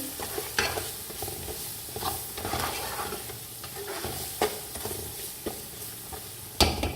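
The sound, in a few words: stirring ground spices, tomatoes and green chillies in pan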